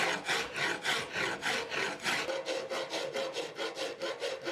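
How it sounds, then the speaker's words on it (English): A hand rasp files red oak for a recurve bow limb, producing steady, evenly spaced scraping strokes, about three per second, close and clear with no talk. "it's a pretty good rasping wood"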